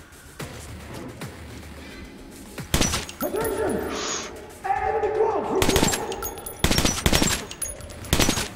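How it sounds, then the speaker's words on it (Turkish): Incendiary-round gunfire in the video game Metro: Last Light Redux, with several sharp bursts of shots, crashes and impacts scattered through the stretch. Someone talks over the game action. "Bu şey attığımız mermiler de yanıyor,"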